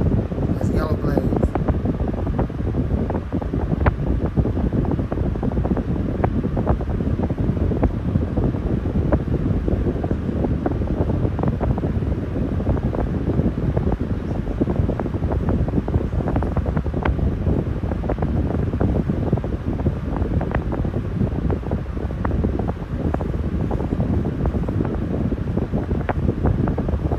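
A 12-inch yellow-bladed 2023 Master HV fan with a dual ball bearing motor runs at full power, giving a steady, close, rushing whoosh of air with constant buffeting from start to finish.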